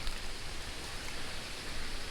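Steady rain pours down on a rainy day in Hong Kong, a dense, even hiss of drops on surfaces that holds constant and fairly close for the whole stretch, with no voices.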